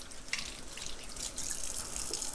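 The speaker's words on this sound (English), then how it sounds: "Cold water on your hands," Cold tap water runs over hands while cooking cornbread, a steady close splashing stream with a few sharper drips and spatters, no talking.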